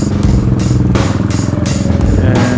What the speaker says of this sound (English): all the bikes are ready to go